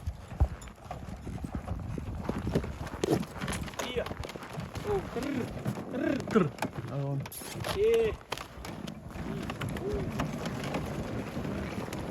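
A draft mare's hooves clip-clop at a walking pace on asphalt on a farm, mixed with wind and a person talking nearby.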